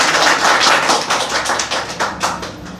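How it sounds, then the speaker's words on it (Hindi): Sustained audience applause at a Fino Payments Bank distributor meeting, many hands clapping steadily and close for the whole stretch, fading slightly toward the end with no talk over it. "ताली बजनी चाहिए इस पर"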